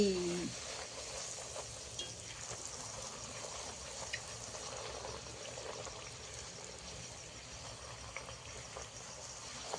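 Peas kachori fry in hot oil in a wok, making a faint, continuous bubbling sizzle that holds steady with no talk.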